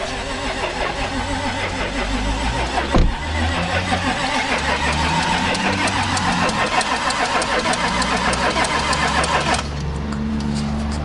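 An engine catches and keeps running in a 2016 Audi A6 that has sat parked for a long time with little fuel: a steady, close mechanical drone runs throughout, broken by a sharp thump around the start.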